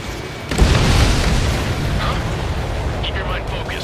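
An enemy transport explodes in the Ace Combat 7 jet combat game with a heavy, rumbling boom that breaks out suddenly and then rolls on under a radio voice speaking.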